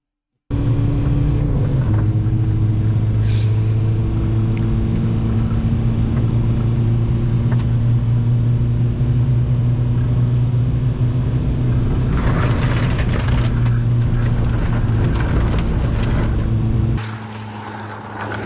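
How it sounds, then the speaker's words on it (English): A small car drives steadily down a dirt lane, its engine a loud, close, continuous rumbling drone with some rattling and crunching from the rough surface. The engine dips in level briefly near the end. "Great handling for a little car."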